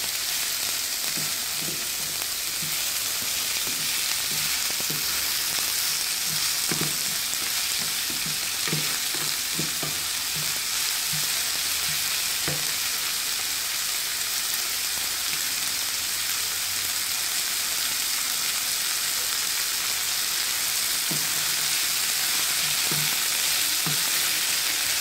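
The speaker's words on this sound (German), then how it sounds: "wenn ihr Zwiebel anbratet, immer schön umrühren, ja, sonst fangen die schnell an zu verbrennen" Onions frying in a pan, a steady close sizzle running throughout with repeated scraping knocks of stirring, irregular at first and clustering again near the end.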